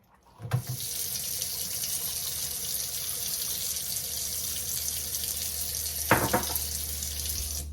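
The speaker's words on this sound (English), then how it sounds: "So I'm going to let this continue to drain out" Water draining from a Cool Sculpting machine hose while flushing vinegar, a steady close gushing flow that runs continuously, with a brief splash or clunk near the start and again later.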